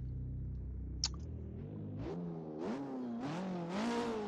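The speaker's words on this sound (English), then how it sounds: "let's give this KTM X Bow R08" A KTM X-Bow R08 race car in the Assetto Corsa sim climbs through rising engine revs, the pitch sweeping upward in repeated surges between quick gear changes, loud and close with a short mechanical click near the start.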